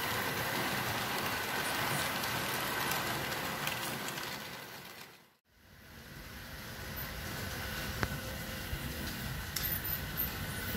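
Old model electric locomotive with rod drive running without a buffer capacitor, a steady, faint rolling rumble with a brief break midway before the noise resumes.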